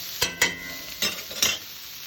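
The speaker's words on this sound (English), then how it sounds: "Now I'm going to dump in the onion. And use this onion to get up those brown bits that are in the bottom of the pan." Chopped onion dumped into a hot frying pan and stirred up from the bottom to lift browned bits: several loud scraping strokes of a utensil against the pan over a light sizzle.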